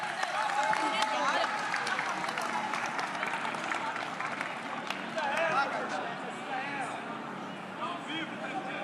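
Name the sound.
crowd applause for the culture minister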